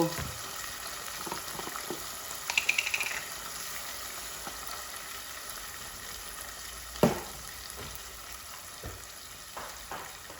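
Chicken liver curry cooks over a lowered flame and is stirred with a metal spoon instead of a wooden stick, giving a soft, faint sizzle with occasional scrapes and clinks against the pan.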